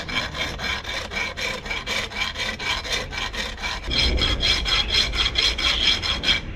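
Hand file rasping against a rough edge in quick, regular back-and-forth strokes, close and fairly loud, growing heavier and fuller partway through.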